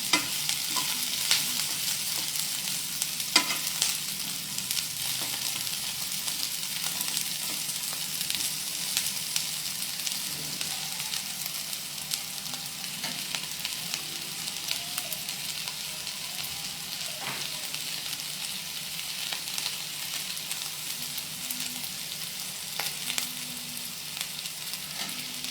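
Capsicum frying in a pan makes a continuous, moderately loud sizzle with occasional scraping stir noises and utensil clicks, steady and unbroken throughout, with no talk.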